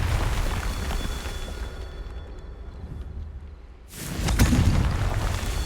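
A Confringo blasting spell erupts in Hogwarts Legacy with a sustained roaring rumble. It fades briefly, then surges again into a second loud, crackling burst close by.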